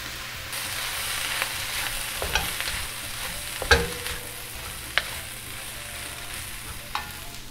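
Mayo-infused rice stir-fried in a pan for chicken fried rice, a steady hiss broken by a few sharp scrapes and clacks of a utensil, close and unaccompanied by talk.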